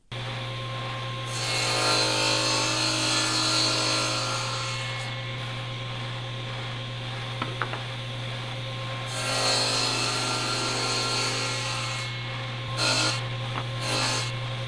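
A saw cuts out wooden blocks in a workshop, giving a loud, steady rasping drone that runs through most of the stretch and eases in volume for a few seconds midway.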